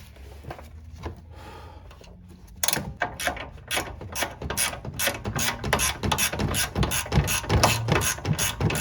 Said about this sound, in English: so I'm gonna loosen this bolt out